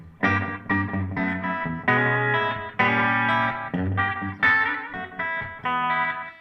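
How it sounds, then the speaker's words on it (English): An electric guitar played through a slapback tape echo set to a single repeat, with reverb off, rings out in a string of distinct plucked notes and chords, each attack loud and close with a short echoed tail. "If you put on a Slapback, which I have right here, just one repeat, kind of a tape echoey thing."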